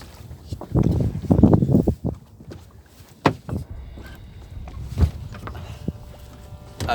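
Footsteps thudding irregularly across the deck of a sailboat at sea, several heavy clunks and knocks near the start, then scattered steps and bumps amid wind and water noise.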